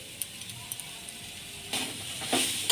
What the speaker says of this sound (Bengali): এবার আমি নারকেলটা কড়ার মধ্যে দিয়ে দিলাম।